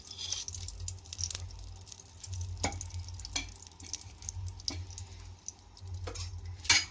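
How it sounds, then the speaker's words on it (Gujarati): Dates frying in ghee in a pan while a dry fruit laddu is being made, giving a low steady sizzle with occasional sharp ticks and clinks of a spoon stirring, close and fairly quiet throughout. "હવે આપણે ખજૂર તળી લેવાનો છે. એટલે પાછું 2 ચમચી ઘી નાખવાનું."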